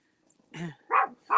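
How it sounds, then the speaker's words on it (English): A dog barks three times at close range, indoors, the barks rising in pitch and spaced about a third of a second apart, with no talk over them. "sorry, that's my dog's barking."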